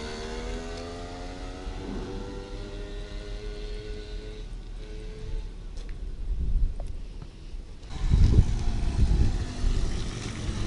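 A moped engine with a restricted exhaust and the air filter removed runs at full throttle and floods, a rough buzzing drone with shifting pitch that drops back, then surges louder and coarser near the end.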